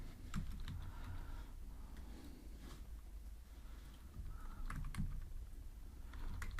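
Quiet, irregular typing on a computer keyboard while coding a note app: scattered soft key clicks come in small bursts and pauses over a low background hum, with no voices.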